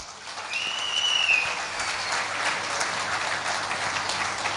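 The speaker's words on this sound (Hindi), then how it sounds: "सो एक बार फिर से अपने लिए तालियां।" An audience applauds at a corporate recognition night, a steady, moderately loud wash of many hands clapping together, with a brief high whistle near the start.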